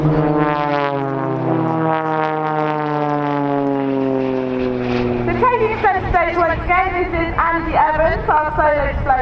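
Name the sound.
aerobatic propeller aircraft of The Blades display team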